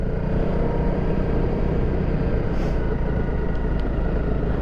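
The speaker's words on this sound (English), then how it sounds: "Can we chug up the hill? Yes, of course we can." A Honda CRF250L trail motorcycle chugs uphill in third gear at low revs, a steady, dense engine rumble heard up close with constant loudness and no speech.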